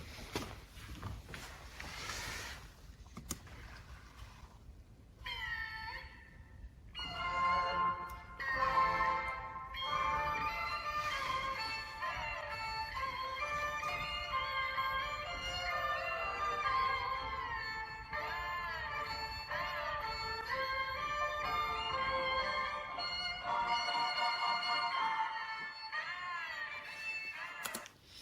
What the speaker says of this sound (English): The accompaniment instruments are jinghu, yueqin, sanxian, ban, and drums.